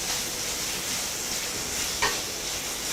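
Onions and small tomatoes fry in a pan for corn rava upma, a steady soft sizzle and hiss close by, with one brief scrape of stirring partway through.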